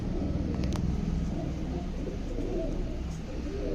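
Karna pigeons for sale in Tiruvannamalai coo softly amid a dense, rumbling background of bird noise and distant traffic, with no talking.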